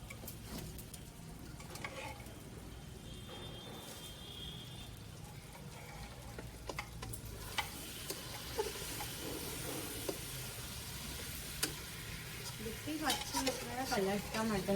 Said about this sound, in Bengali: এবার একটু নাড়া দিয়ে নে মশলাটা।